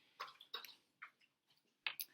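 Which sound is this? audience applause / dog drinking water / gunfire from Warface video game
dog drinking water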